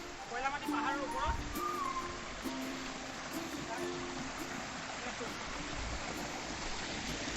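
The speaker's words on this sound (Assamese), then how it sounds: "ৱাটাৰফল এটা আছে, পানী পৰি আছে, ঝৰ্ণা হাবি কয়লামাটি পাহাৰৰ ওপৰত।" A waterfall at Koilamati hill in Karbi Anglong, Assam, gives a steady, even rush of falling water from start to end, with someone speaking briefly over it at the beginning.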